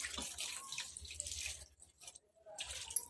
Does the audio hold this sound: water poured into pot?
yes